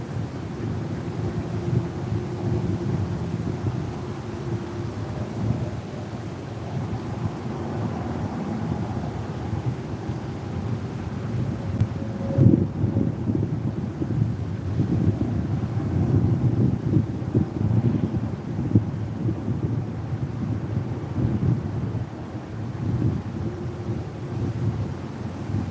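Steady outdoor wind roars and buffets the microphone in a continuous low rumble with occasional heavier gusts, filling the whole stretch without pause.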